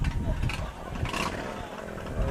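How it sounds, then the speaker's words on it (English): A heavily modified, far-from-stock motorcycle rolls past in an outdoor classic car parade, its engine rumbling low and steady beneath voices and open-air crowd noise. "Oh, our first motorcycle in the parade."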